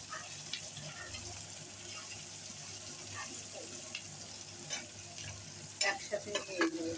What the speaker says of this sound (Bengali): দেখো কেমন লালচে হচ্ছে পেঁয়াজটা।